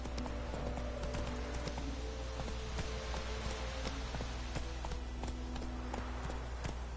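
Hooves of the horse Roach in The Witcher video game clip-clop in a steady, continuous rhythm over a droning game soundscape, close and unbroken throughout.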